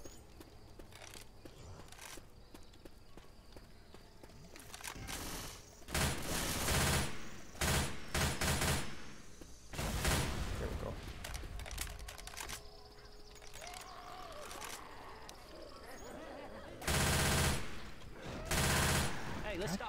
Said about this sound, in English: Going with machine gun.